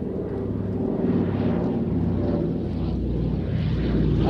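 A vintage D-Day veteran aircraft with a non-standard nose and cockpit windscreen flies past at the Midlands Air Festival, its engine drone loud and steady throughout, with no talk.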